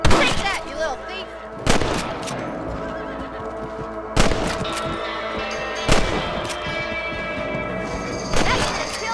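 Rifle shots at rabbits in the video game Red Dead Redemption: five sharp, loud gunshots spaced about two seconds apart, with a horse whinnying at the start and game sounds underneath.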